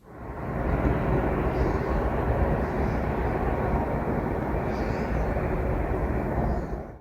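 Low-flying airplanes over the Paderborn district produce a loud, continuous broadband engine roar that holds steady for several seconds, with no voices.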